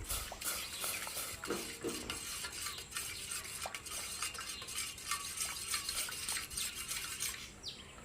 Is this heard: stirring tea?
yes